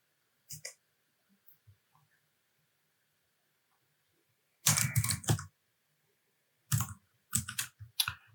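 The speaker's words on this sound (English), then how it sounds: "Typing today is not my best." Someone types on a computer keyboard in scattered bursts, a few isolated key taps followed by two dense flurries of clattering keystrokes, close and fairly loud with quiet gaps between.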